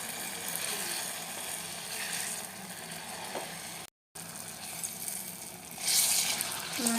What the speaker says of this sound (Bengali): তেলটা গরম হয়ে গেছে, এবার আমি আস্তে আস্তে ব্যাটারটা ছেড়ে দেবো।